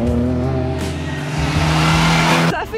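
Rally cars, including a Ford Fiesta Mark 2, climb the steep Hardknott Pass, their engines droning and revving loudly and steadily nearby, with a brief squeal near the end.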